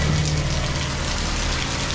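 Heavy typhoon rain pours outside a house in the Philippines, a dense, steady roaring wash of water with a faint low hum near the start and no voices.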